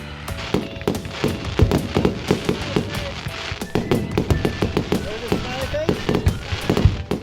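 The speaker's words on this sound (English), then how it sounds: "they are going to set off the fireworks right in front of us" Rapid, irregular bursts of firecrackers and fireworks popping nearby on the Fourth of July, crackling loudly in quick succession while people talk underneath.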